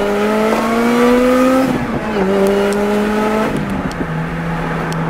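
A 2007 Lotus Exige S engine pulls hard through second, third and fourth gears, its pitch climbing then dropping at each shift, loud and close throughout.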